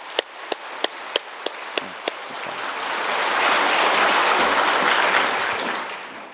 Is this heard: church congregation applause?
yes